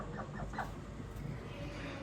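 Hens on a small rooftop terrace farm give several soft, faint clucks close by, with a steady low background and no talking.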